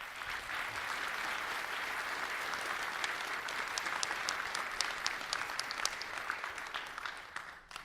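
Steady, full audience applause at a TypeScript technology talk, dense and even for several seconds before tapering off at the end, with no speech over it.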